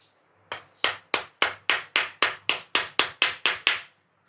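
About a dozen sharp hammer blows drive a 608 bearing onto a wall fan shaft. The strikes fall in a fast, even rhythm at close range, each a loud metallic knock that dies away quickly, with no talking.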